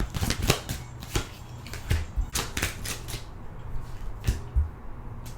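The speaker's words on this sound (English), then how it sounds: "I'm going to go ahead and shuffle and make my spread" Tarot cards being shuffled up close, a series of crisp riffling flutters and soft taps in irregular bursts, with no talking.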